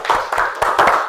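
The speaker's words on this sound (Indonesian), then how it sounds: "Tepuk tangan dulu." A class claps hands together in a short burst of brisk applause, many palms striking close and loud over about a second.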